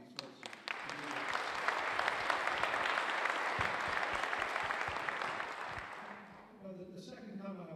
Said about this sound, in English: please give a round of applause to these folks